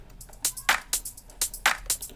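A looping drum top pattern with crisp hi-hat hits and sharp rim shots, bouncing in a steady, even rhythm, up close and moderately loud.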